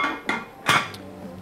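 Two light metallic clanks a moment apart, close by, as a lid is set on a cooking pot of asam pedas, with quiet room noise between.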